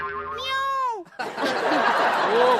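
A human voice imitates a cat's meow with a rising, wavering pitch, then breaks off into loud, bursting laughter that fills the rest of the moment.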